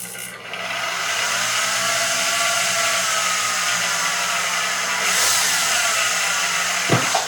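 A drill boring a hole through a coin for a crown-shaped coin ring, a sustained whining grind held close and steady for several seconds, ending with a brief clunk and no talk.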